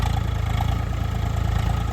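A 4x4 tractor engine runs steadily while ploughing a wet maize field, a continuous close, loud low rumble with an even throb and no voices.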